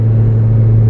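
A car with a catless full race exhaust, J35 throttle body spacer and open K&N intake idles or revs in a loud, close, deep steady rumble for about a second.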